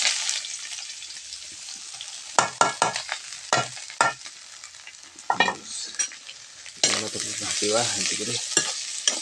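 Brinjal and potato frying in a pan, with soft sizzling under repeated scraping stirs and clinks that come in bursts, louder toward the end; a few quiet words are spoken.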